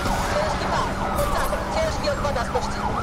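Police sirens wail in a Need for Speed Unbound car chase, several overlapping sweeping tones rising and falling over a steady engine roar, fairly close and continuous.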